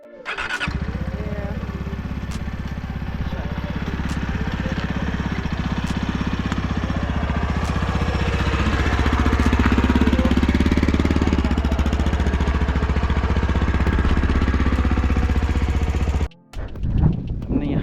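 A motorcycle engine idles steadily and loudly up close with a fast, even thumping rumble, then cuts off abruptly near the end, followed by brief handling noises.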